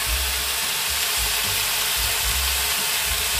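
Spices and salt are stirred in hot oil while tempering with radhuni and bay leaves, giving a steady loud hissing sizzle close by, with soft low knocks from the stirring underneath.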